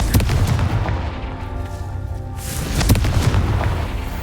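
A Confringo fire spell goes off in Hogwarts Legacy with loud, booming blasts. A dense rumbling wash swells again near the end, with no speech over it.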